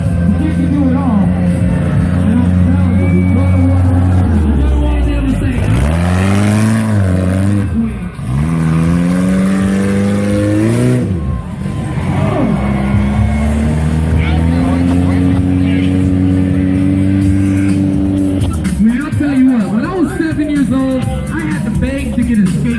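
A mini monster truck's engine revs hard and continuously as it throws donuts and gets air in an arena, its pitch rising and dipping in repeated sweeps, loud and close.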